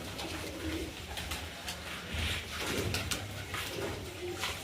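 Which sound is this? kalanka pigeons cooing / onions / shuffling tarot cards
kalanka pigeons cooing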